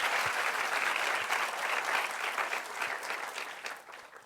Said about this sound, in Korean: will you please give Jesus the best clap to your pastor?